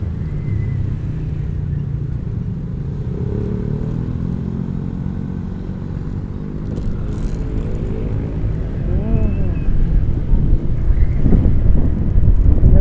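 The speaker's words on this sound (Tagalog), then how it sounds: "Medyo may hangin." Continuous wind buffeting the microphone in a vegetable garden after a storm, a low rumble growing slightly stronger toward the end, no talking.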